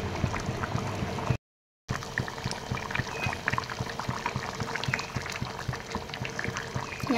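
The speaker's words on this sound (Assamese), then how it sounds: "এতিয়া মই উতলিব দিম" Fish curry boiling in a pot, a steady bubbling and simmering that continues throughout, broken by a brief silent gap.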